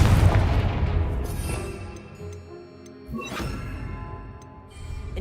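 A fire-spell blast in Hogwarts Legacy booms out twice, each burst a loud broadband crash with a ringing tail, over continuous game ambience.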